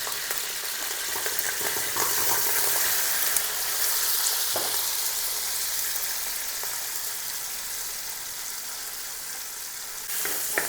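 Whole peeled small shallots fry with curry leaves in hot oil for a Tamil crab curry, a steady close sizzle with faint stirring scrapes and a couple of sharper clicks.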